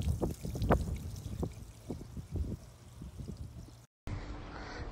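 Fluid drains from a Renault Megane engine, a faint trickling and dribbling pour with irregular splashy pulses, close by, broken by a brief cut near the end.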